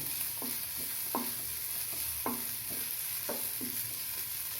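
Onion paste sautéed in a pan for mutton gravy gives a soft, steady sizzle at low volume. Several distinct spoon scrapes and stirs cut through at irregular intervals, and no voices are heard.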